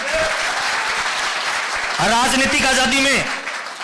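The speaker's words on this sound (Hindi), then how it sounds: "ताली जोरदार वाली बजाइए" Audience applause at an RCM World motivational gathering, a dense, steady wash of clapping that runs the whole time while a voice calls out loudly over it in the middle.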